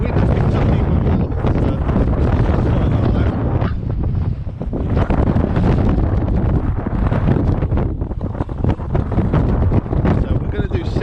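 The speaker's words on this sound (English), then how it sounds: "The wind picked up even more." Strong wind roars over a hillside during a bike ride, buffeting the microphone loudly and continuously, with gusts swelling and dipping throughout.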